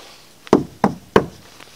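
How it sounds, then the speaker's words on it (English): Three sharp, evenly spaced knocks on a hard surface at night in a playground, close and distinct against a quiet background, with no talking. "Come knock on something like this."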